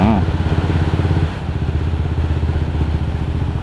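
A Yamaha M-Slaz motorcycle that has stalled and won't start on a rainy commute, giving a loud, close rough engine chug that sputters and drops off, with a brief voice near the start.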